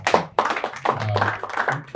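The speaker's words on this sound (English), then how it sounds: "You can clap if you want." Audience clapping at a fireside chat event, a burst of close, dense hand claps in uneven waves, with a little murmuring underneath.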